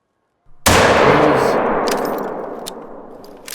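A single loud rifle shot fired at caribou while hunting in the Yukon Valley in theHunter: Call of the Wild, a sharp close crack followed by a long rolling echo that slowly fades.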